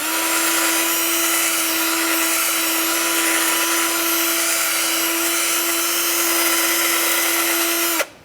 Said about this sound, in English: I'm using a wire brush on my drill.